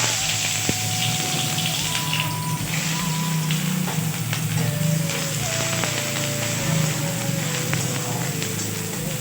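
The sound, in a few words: chopped onion frying in a pan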